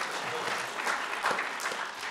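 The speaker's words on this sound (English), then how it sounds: "let's applaud for the June sucker" An audience at a science talk about lake ecology applauds for the recovery of the June sucker fish, a moderate, continuous burst of clapping with a few louder claps standing out.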